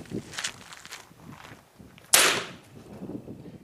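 A model rocket ejection charge bursts through a hot melt glue cap on a CPVC fitting, set off from a battery charger: one sharp, loud bang partway through, with quieter rustling before it.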